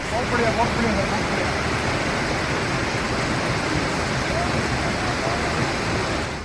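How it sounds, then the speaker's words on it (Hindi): Floodwater roars after a cloudburst in Kinnaur, a dense, steady rushing wash that stays loud and unbroken throughout with no pauses. "पानी की रफ्तार, उसकी शोर लोगों को डरा रही है"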